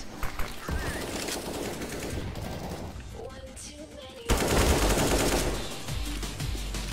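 Rapid bursts of gunfire from the video game CS:GO ring out in sharp volleys, a sparser stretch followed by a louder, dense run of shots near the end, with no voices in the clip.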